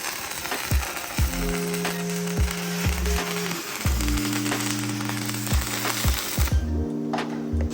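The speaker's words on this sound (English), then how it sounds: "It's welding itself right now." A cheap $89 110V welder arcs continuously with a crackling, buzzing sizzle, interrupted by several louder harmonic hums and clunks from the machine; steady and close, with no voices.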